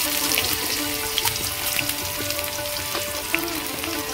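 Chopped onion hits hot oil already crackling with whole cumin seeds, giving a steady close sizzle with small pops and bubbling throughout, no voice over it.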